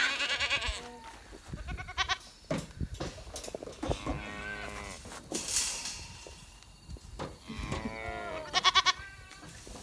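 A goat on a small farm fed alfalfa bleats repeatedly, with loud wavering cries at the start and again near the end and softer calls between, close to the listener and with no talk over them.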